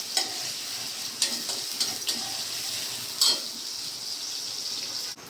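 Chopped onions sizzle steadily in a pan with a broad, continuous frying hiss, broken by a few brief stirring scrapes, with no one talking.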